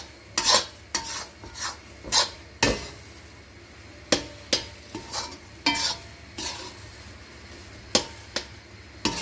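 Sooji halwa is roasted in ghee in a kadhai, with a spoon scraping and stirring in irregular strokes over a soft, steady sizzle, close and moderately loud, with no talking.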